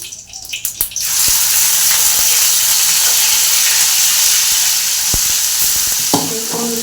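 Onion and ginger hit hot oil in a pan on the stove, a few brief clattery drops giving way to a loud, steady, close hiss of sizzling that continues alone, with a small clink near the end.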